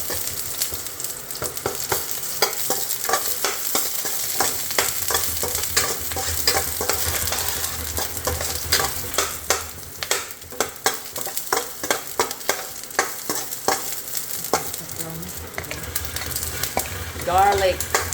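Onion stir-fried in a wok for a quick Chinese-style squid stir fry, a steady close sizzle with repeated scraping and stirring clatters throughout, no voices.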